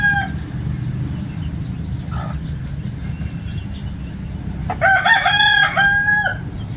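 A rooster of a Texas (burukdol) breed crows loudly and close by in one long call near the end, after a brief cluck, over a steady low background hum.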